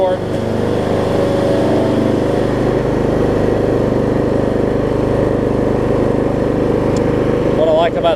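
Troy Bilt Bronco riding mower rolling forward with its engine running at a steady, loud drone close by, blades not cutting grass, continuous throughout with no talk over it.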